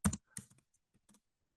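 Several quick keystrokes on a computer keyboard, a loud burst of clicks followed by a few lighter, scattered taps with short pauses between them, heard close and on their own.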